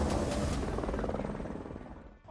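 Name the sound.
helicopter flying overhead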